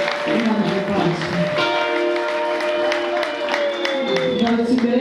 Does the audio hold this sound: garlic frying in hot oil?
no